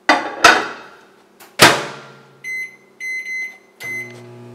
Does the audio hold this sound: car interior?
no